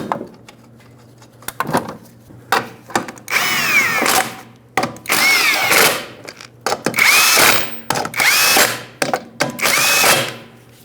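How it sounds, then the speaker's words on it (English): A power tool runs in repeated bursts of whirring and rattling as lug nuts are driven onto a 2006-2011 Honda Civic wheel, loud and close with short pauses between pulls and no talk. "Put the lug nuts back, of course, to hold the wheel on nice and snug."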